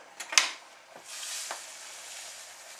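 Tamarind concentrate and sugar are stirred together in a pan: a few quick, close scraping strokes up front, then a softer, steady rasp of mixing, with no voices.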